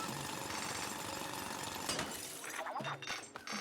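A drill attack in Splatoon Raiders grinds in a steady, rapid, harsh buzzing stream, shifting to choppier crunching hits and clinks toward the end; fairly quiet overall.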